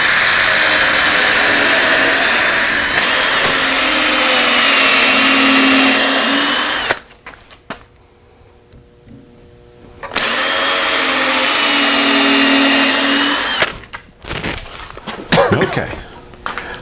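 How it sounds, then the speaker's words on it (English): A power drill bores pilot holes into pallet wood, a loud steady whine held for several seconds, a pause, then another long run before it trails off into clunks and handling noise. "I'm pre-drilling so I don't split the pallet wood"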